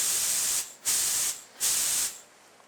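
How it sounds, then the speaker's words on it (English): CAT air assist airless paint sprayer making short test sprays: two loud, close bursts of hissing spray separated by brief gaps, with a third burst trailing off at the end. "now we're going to do another little test spray to see how our pattern looks"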